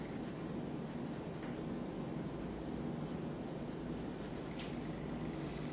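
Pencil drawing lines on paper for a brick design, a continuous close scratching and rubbing of graphite with small stroke accents, steady and alone.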